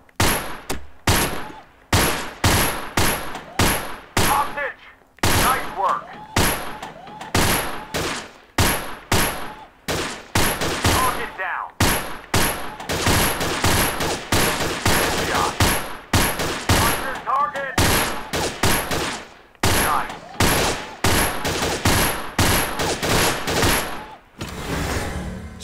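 Bursts of submachine gun fire from an Allied SMG 26-40 in the VR shooting game Gun Club VR, loud rapid rattling volleys separated by short pauses throughout, with no talking.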